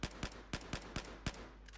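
Gunfire in Battlefield 4 from a tap-fire gun: sharp, evenly spaced shots about four per second, loud and close over a low steady hum, with no talking.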